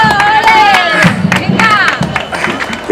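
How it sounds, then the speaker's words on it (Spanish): Crowd cheering and applause at the finish line of the 2011 Torrevieja half marathon, with about 1,600 runners, a loud dense roar of voices with scattered clapping, close and continuous. "¡Ese aplauso!"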